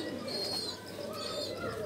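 Jonsira Teddy pigeons coo in a low, steady murmur, with faint higher chirps drifting over the soft continuous cooing.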